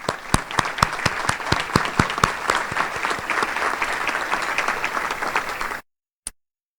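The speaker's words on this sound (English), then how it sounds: "would please stand for a round of applause" An audience at a regional state-of-the-region event applauds city representatives, steady close clapping from a crowd with distinct sharp claps, ending abruptly, followed by a single clap after the silence.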